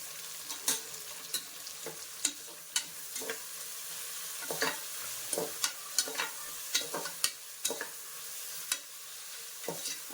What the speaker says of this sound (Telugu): ఆనియన్స్ మంచి గోల్డెన్ బ్రౌన్ కలర్లోకి వచ్చేంత వరకు ఫ్రై చేద్దాం